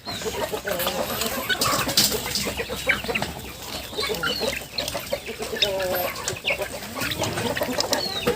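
Month-and-a-half-old free-range chickens cluck and squawk repeatedly at close range in a busy farmyard, with a voice occasionally heard among them.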